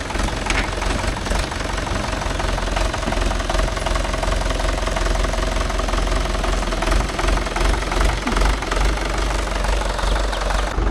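A Mahindra Yuvo Tech Plus 585 4WD tractor engine runs steadily nearby, a loud, constant diesel rumble with a rapid knocking pulse throughout and no pauses.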